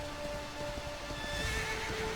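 A horse in the game Dragon Quest XI gives a drawn-out whinny over a steady background wash, its tone wavering and rising toward the end.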